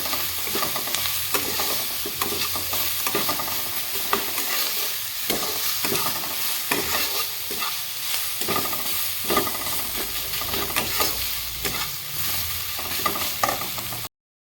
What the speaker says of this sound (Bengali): সুন্দর করে আমি ভাজা ভাজা করে নেবো